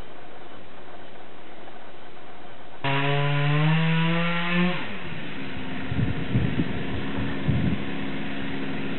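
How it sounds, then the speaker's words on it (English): Chainsaw about 20 yards from the house starting up after a quiet stretch, revving loudly with a rising then falling whine before settling into a lower buzzing idle and cutting sounds. "The most impossible to ignore sound in the universe is a chainsaw"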